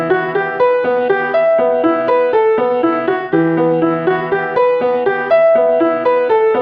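A classic trap sample at 140 BPM plays a bright, plucky melodic loop of repeating tuned notes and chords, clean and upfront with no voices over it.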